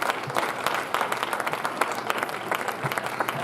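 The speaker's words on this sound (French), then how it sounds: "On va les applaudir encore une fois." Church congregation applauding, a steady dense wash of many hands clapping together at moderate distance, filling the room without pause.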